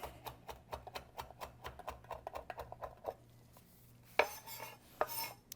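A knife rapidly minces fresh oregano on a cutting board in quick, even taps. A brief pause follows, then a couple of louder clattering knocks near the end.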